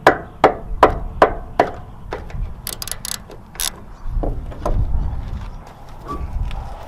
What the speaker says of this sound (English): I'm gonna use a mallet to try to bang them loose